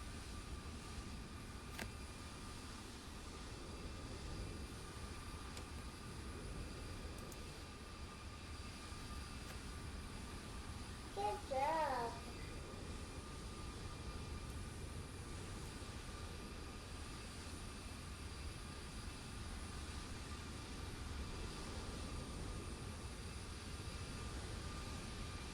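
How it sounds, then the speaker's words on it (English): A PMDG 737 airliner drones steadily on final approach in a flight simulator, a low continuous engine hum with faint tonal whine, briefly joined by a short burst of radio chatter midway. "Enjoy the ATC and the aircraft on final."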